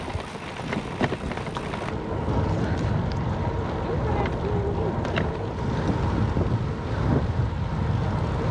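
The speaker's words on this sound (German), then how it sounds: "Erste Fähre über die Elbe" A ferry crossing the Elbe, heard as a constant low engine rumble and water churn mixed with heavy wind buffeting on the microphone, with occasional knocks and faint voices.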